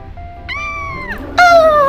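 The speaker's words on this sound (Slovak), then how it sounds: "Čo bola za mačka?" A cat meows loudly and close up, starting with a thin high tone, rising into a long drawn-out cry, then breaking into a louder, harsher yowl at the end, over a low background hum.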